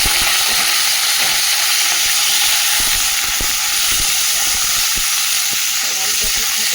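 Cut potatoes fry loudly in oil tempered with bay leaf, garam masala and dried red chillies, a dense close hiss with repeated clacks of a spatula against the pan.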